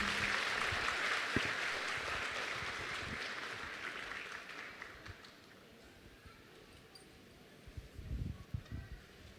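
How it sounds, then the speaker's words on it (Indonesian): Audience applause welcoming a Buddhist monk and a guest speaker at a dhamma talk, a dense crowd clapping that fades gradually over several seconds, with a brief scattered burst near the end. "Kita sambut dengan tepuk tangan"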